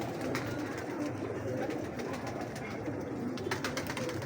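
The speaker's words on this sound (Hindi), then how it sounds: "ये पीली पलकों का इमामदीन कबूतर है जी।" A breeder pair of yellow-eyelid Imam Din pigeons kept by a Lahore fancier coo softly close by in a loft, with a continuous low murmur and scattered clicks around them.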